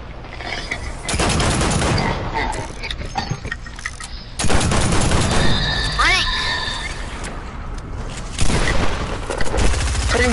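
Gunfire in a shooter video game crackles in bursts through the clip, mixed with a loud game soundtrack and occasional booms, while several players talk over it.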